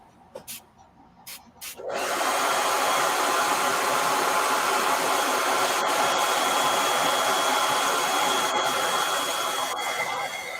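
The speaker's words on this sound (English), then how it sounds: "I'm going to hit this with a blow dryer so I don't smear it" A blow dryer roars on after a few faint knocks and blows steadily to dry fresh paint on a surface, a loud, even airy rush that continues without a break to the end.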